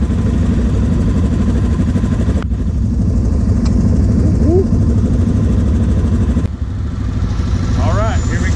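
Several ATV engines idle and rev nearby during a practice session before a ride in Puerto Rico, a loud, steady mechanical drone filling the whole stretch.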